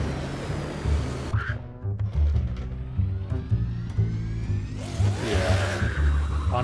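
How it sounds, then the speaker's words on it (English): A V8 race car engine in a racing video game revs and shifts through gears, its deep engine tone rising and dropping in pitch, with whooshing passes and a brief tire squeal. "I love the sound on this car though. It sounds like a NASCAR."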